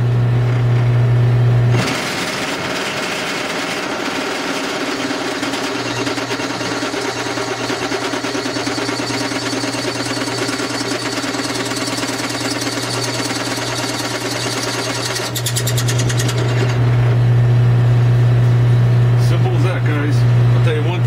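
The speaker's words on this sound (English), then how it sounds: "So I'm going to give this a drill and see what we got." A drill grinds steadily into a cast metal trailer hub for about fourteen seconds, a harsh continuous whine with rough texture, preceded and followed by a low motor hum.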